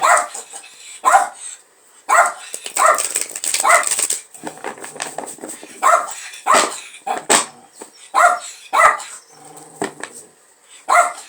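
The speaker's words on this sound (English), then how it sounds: "She's got such a persistent bark." A dog barks persistently in repeated bursts of sharp, loud barks with short pauses between them, close to the listener, across the whole stretch.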